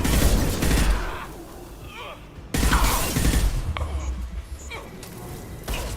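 Gunfire in a Mass Effect 2 Legendary Edition battle, loud bursts of shots and crashing impacts in two dense waves, with scattered mechanical clatter and a voice in between.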